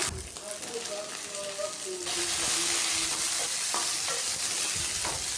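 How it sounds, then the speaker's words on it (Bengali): Dry red chillies and cumin seeds dropped into hot oil for tempering crackle into a loud, continuous sizzle with stirring clatter, close up, after a few brief tonal clinks and kitchen sounds. "ফোড়নে দিয়ে দিচ্ছি শুকনা লঙ্কা কাঁচা জিরা"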